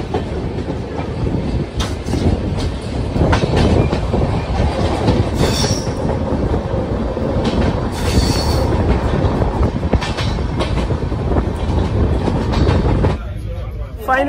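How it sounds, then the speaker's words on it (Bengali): A train pulls into Jammu Tawi railway station with a continuous loud rumble of wheels and carriages, clattering rail joints and occasional squeals, and faint voices mixed underneath. "মানে 1 ঘন্টা লেটে আমাদের ট্রেন পৌঁছানো হচ্ছে জম্মু তাবি রেলওয়ে স্টেশনে"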